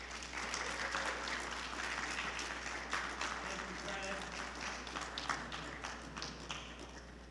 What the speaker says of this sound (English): Let's give Fred another round of applause on his way out.